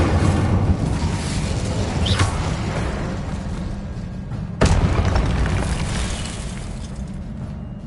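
Spell-casting effects from the video game Hogwarts Legacy, a loud continuous booming, crackling blast of magic with a sharp burst of impact near the middle, dense and sustained throughout.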